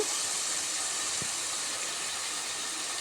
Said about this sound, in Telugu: సన్నగా తరిమిన ఉల్లిపాయలను దోరగా వేయించుకోవాలి